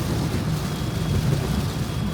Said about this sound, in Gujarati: મસ્ત વરસાદ આવી રહ્યો છે રસ્તામાં.